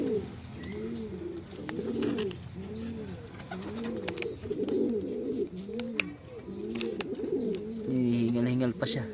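Racing pigeons coo repeatedly close by at a training loft in La Paz, Tarlac, a run of rhythmic rolling calls with brief gaps and scattered clicks and flutters, and a voice talking faintly underneath.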